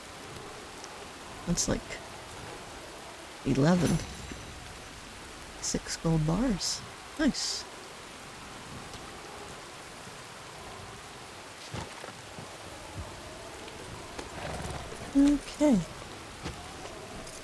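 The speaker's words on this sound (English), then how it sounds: "it is cold, wet, and rainy up here" Steady rain falls in the video game Red Dead Redemption 2, a continuous soft wash of drops with a faint low rumble beneath. A voice talks in short bursts over it.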